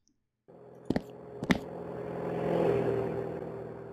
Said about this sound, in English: it's pitched up, and then when it goes away, it pitches down